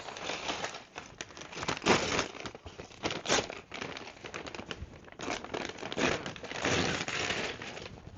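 Crinkling and tearing of a non-plastic package being opened by hand, loud close crackles in bursts across several seconds, no talking.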